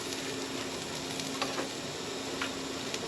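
Onions and cauliflower fry in a pan, giving a steady, close sizzle with a few faint utensil clicks.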